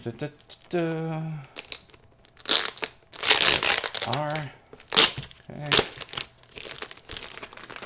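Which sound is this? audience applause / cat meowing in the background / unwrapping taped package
unwrapping taped package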